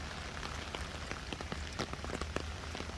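Rain patters steadily on an umbrella during a walk, with dense close drops and sharper individual taps over a constant hiss.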